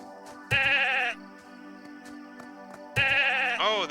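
A sheep bleats twice in the farming video game The Good Life, each bleat loud and wavering, spaced a few seconds apart over a soft steady musical drone.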